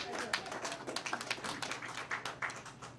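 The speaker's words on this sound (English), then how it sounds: "Yeah, somebody's trying to applaud here." A lone audience member claps sparsely and unevenly during a live talk-show broadcast: a string of sharp, separate hand claps at irregular intervals, fairly quiet in the room.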